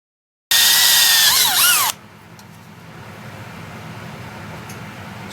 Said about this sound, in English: We'll drill some more holes here